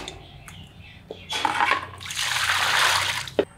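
Cleaned, scaled small puti fish being rinsed by hand in water, with splashing and swishing that builds into a sustained close pour and slosh, ending in a sharp splash.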